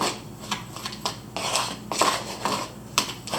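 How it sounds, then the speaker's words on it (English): Sand and cornstarch mixed together, producing irregular gritty scraping and rubbing strokes at close range, about six distinct bursts with quieter rasping between them. "mix that up till you have a nice consistency of the sand and the cornstarch"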